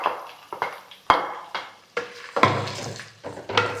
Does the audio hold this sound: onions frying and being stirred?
yes